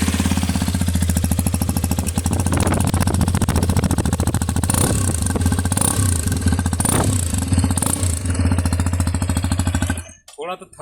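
A Hero Xpulse 210 motorcycle engine runs steadily at idle up close, with a loud, even thumping beat and a mechanical clatter, before cutting off near the end.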